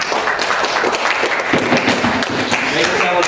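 Convention panel audience clapping together, a dense burst of applause throughout, close and loud, with some cheering mixed in.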